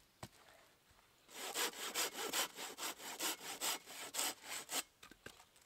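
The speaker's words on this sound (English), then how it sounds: "And the silky saws, they cut on the back stroke" A Silky pruning saw cuts through punky pine wood outdoors in a pine forest, about fifteen rhythmic rasping strokes close up after a brief pause, with no talk.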